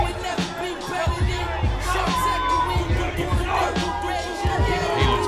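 Arena crowd at a heavyweight title wrestling match, a steady roar of murmuring and shouting with scattered whoops and rising swells, with low thumps underneath.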